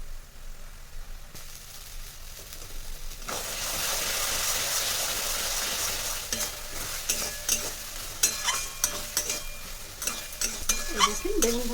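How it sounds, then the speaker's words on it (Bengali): Eggplant bharta with egg is frying in a pan, starting as a quiet sizzle that swells into steady frying, with a spoon scraping and stirring in clicky strokes toward the end. "বেগুন ভর্তা একটু ভুনতে হয়"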